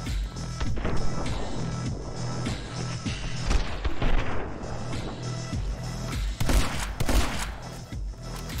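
Shotgun blasts and rapid gunfire in the action shooter game My Friend Pedro, a dense run of loud booming shots with crashing impacts, several heavy bursts near the end.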